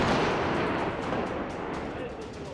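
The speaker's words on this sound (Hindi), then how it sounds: "rocket launcher," Rocket launcher fire in the Israel-Hamas war brings a heavy, continuous roar of blasts and rumbling. It is loud and dense throughout, tapering slightly toward the end.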